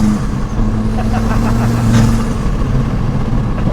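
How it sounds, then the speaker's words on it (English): A Ford Escort fitted with a 5-cylinder 2.5 turbo engine accelerates with a steady, loud drone and a rising turbo whine, heard from inside the car, with faint voices in the background. "It's the noise the engine gives you. Obviously the turbo as well, spooling up."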